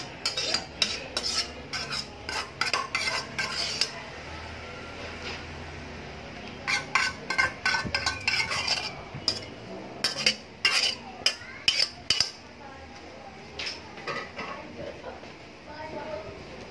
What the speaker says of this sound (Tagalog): Ngayon, haluin natin to mga kalakay.